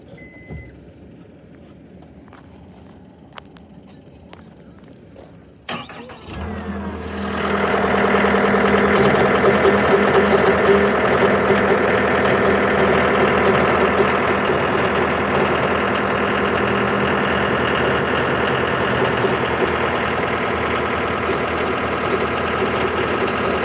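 A John Deere 325G skid steer under repair sits quiet for several seconds, then its engine cranks and catches with a sudden jump in loudness and settles into a steady, loud, close diesel idle that holds to the end.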